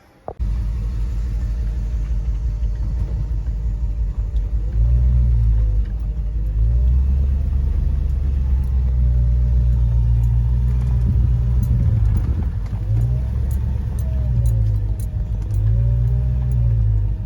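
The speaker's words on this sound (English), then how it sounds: "I think we can go for a test drive." Hemi-swapped Jeep Grand Wagoneer on a test drive, its V8 giving a steady loud low rumble from inside the cabin that swells with throttle and eases off, with brief revving changes throughout and no talk.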